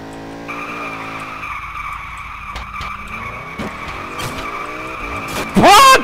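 In the Garry's Mod video game, a car drifts with its engine droning steadily, then the tires break into a sharp, loud skidding squeal at the end, with no voices.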